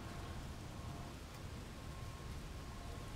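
Rain in the city-building game Cliff Empire hisses as a dense, unbroken wash of noise, steady and fairly quiet, with no voices over it.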